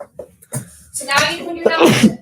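A single sneeze in a classroom, a sharp burst following brief talk, with speech continuing around it.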